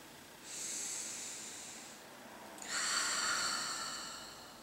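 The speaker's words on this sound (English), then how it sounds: "Begin breathing deeper" Slow, deep breaths during a seated hamstring stretch, two long airy hisses in a row with a brief pause between them, the second one fuller and louder, close to the ear and with no talking.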